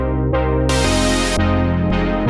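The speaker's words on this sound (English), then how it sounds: "check out how powerful serial filters can be on a basic saw wave like this" A basic saw wave synth in Vital runs through serial filters, sustained buzzy chords whose brightness jumps open and closed in steps, loud and alone.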